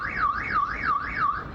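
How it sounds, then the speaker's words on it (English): NYPD police patrol robot sounding an electronic alarm, a loud warbling tone that sweeps up and down in a steady repeating cycle about every third of a second, heard alone. "Not only does this robot sound an alarm"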